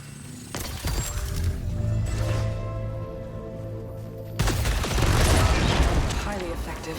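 Weapon alternative fire in Returnal sets off booming explosions with mechanical bursts, one heavy blast early and another loud eruption midway, over game ambience.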